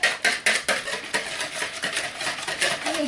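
Eggs being whisked for pancake batter, with a rapid run of light metallic taps and swishes against a bowl, close up and fast, with no voices.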